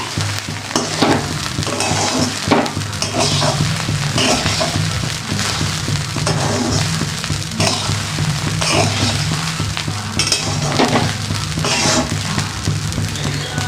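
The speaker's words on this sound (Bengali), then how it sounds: "চাল ডালটা পোলাওর মতন ভেজে নিলাম একবারে" Rice and lentils frying in a pan for khichuri, a continuous loud sizzle with scraping stirring strokes recurring through, close and alone without talk.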